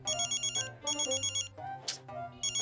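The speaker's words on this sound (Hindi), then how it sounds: "ये वाला फोन बज रहा है" A mobile phone ringtone plays in repeated short melodic bursts with a steady rhythm, fairly quiet, over soft background tones with a brief swish in the middle.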